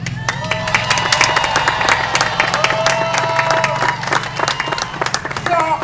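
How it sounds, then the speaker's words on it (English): A large crowd applauds and cheers Mayor London Breed at the Mexican Consulate's El Grito de Independencia celebration. The dense, steady clapping goes on throughout with voices and cheering mixed in. "yo quiero pedirles un aplauso muy fuerte a la alcaldesa London Breed"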